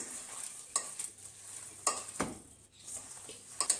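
A spoon scrapes and stirs through a bowl of potato paratha filling mixed with salt and spices, giving a few soft scrapes and taps close by with no talking.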